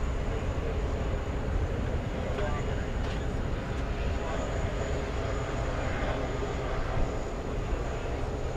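A steady roar of an airplane at JFK airport near runway 4 right runs through the whole stretch, with voices talking over it the entire time.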